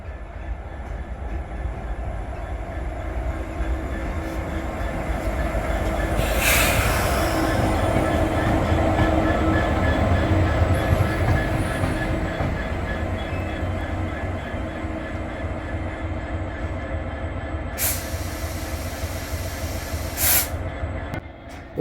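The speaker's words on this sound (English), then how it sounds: "66523 arrives at North Allerton with some camera equipment on the front." British Rail Class 66 diesel locomotive 66523 arrives at Northallerton station with a steady engine rumble and rolling wheel noise, brake hiss swelling midway, and sharp squeals of wheels or brakes near the end.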